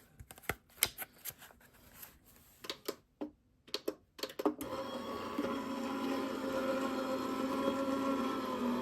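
A die cut machine for crafting starts up with a steady mechanical whirring hum after a series of sharp close clicks and taps from handling paper and dies.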